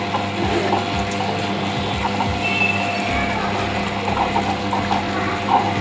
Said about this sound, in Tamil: உளுந்து அரைக்கிறதுக்கு கொஞ்சம் கொஞ்சமாக தண்ணி சேர்த்து அரைச்சிக்கோங்க